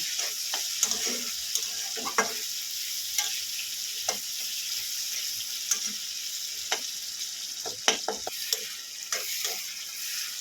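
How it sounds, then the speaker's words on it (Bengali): Steady frying sizzle with scattered sharp crackles and pops, close by, continuing without any voices. "পেঁয়াজটা এদিকে ভাজা হচ্ছে ভাজা হোক"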